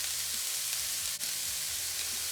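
Onion flowers with turmeric and dried fish sizzle in a pan while being stirred, a constant dense frying hiss up close with no voices over it.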